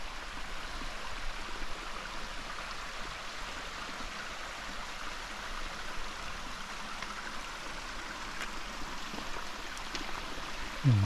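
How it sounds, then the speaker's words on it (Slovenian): A small waterfall babbles down rocks on the hillside below Sveti Primož above Kamnik, a steady, soft rushing of water with no voices. "je fajn dol žubori tam z skalce, malo slapek je"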